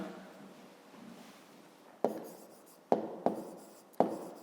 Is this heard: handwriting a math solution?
yes